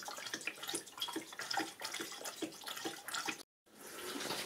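Liquid coolant runs and gurgles as it pours into the cooling system of a 1999 Peugeot 306 1.9 L with an overheating engine, a steady close trickling flow with one abrupt short break near the end.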